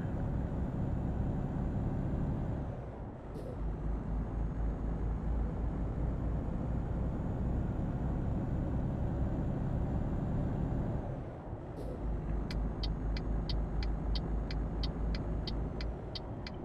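A truck in Euro Truck Simulator 2 drones along a country road with a steady, loud engine rumble and road noise, briefly dipping twice, then a rapid series of ticking clicks near the end.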